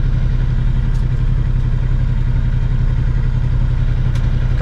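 A 1970 Pontiac Grand Prix with a four-speed and a rough carburetor is driven along, its engine a steady loud low rumble throughout with faint clatter, no voices.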